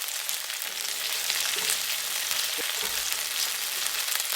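A grilled cheese sandwich fries in a pan after being flipped, giving a steady, dense crackling sizzle throughout with a few faint low knocks from the pan underneath, close up and without talking.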